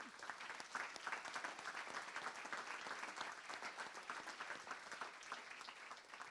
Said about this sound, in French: je vous propose d'applaudir toute l'équipe d'Atlampol